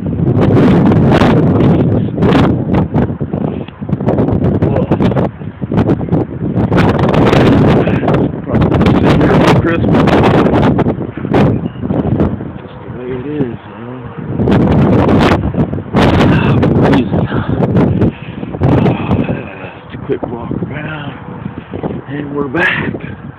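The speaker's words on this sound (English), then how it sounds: "Wind blowing through that." Strong wind blowing outdoors near the I-65 highway on a freezing day, loud buffeting gusts and rustling battering the microphone throughout.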